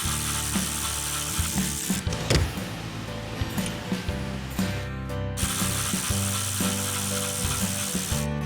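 Wing bolts on a 1969 Dodge Charger Daytona being loosened with a ratchet wrench, a steady run of close, dense metallic clicking with brief heavier knocks, no talking.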